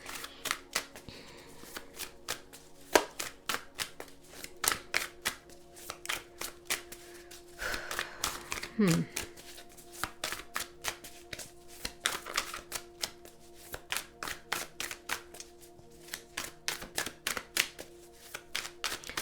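Tarot cards shuffled and riffled continuously at close range, a steady run of crisp flicks and slaps with a few louder bursts, with no talking.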